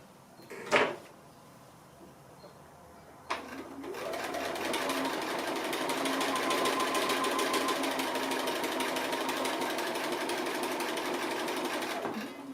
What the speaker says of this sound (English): I'm just free motion stitching, just a little straight stitch just near the edge of the applique